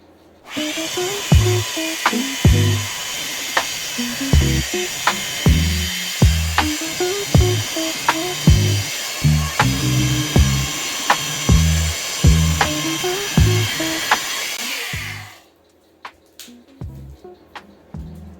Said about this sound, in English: Now I will be sanding them with my electric sander.